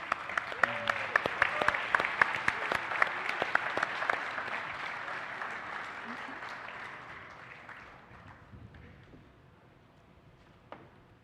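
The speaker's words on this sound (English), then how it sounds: "Would you please give him the round of applause" A summit audience gives a chairman a round of applause: dense, steady clapping from a large crowd, loud at first, then gradually thinning and fading toward the end, with a few scattered claps remaining.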